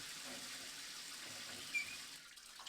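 Running water from a faucet in the Maitetsu visual novel, a steady broadband rush that continues unbroken throughout, moderately loud and close, with no talking over it.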